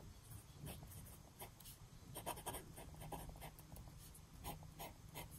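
TWSBI Mini fountain pen with a stub nib writing on paper, soft close scratchy strokes in quick irregular bursts, with no talking.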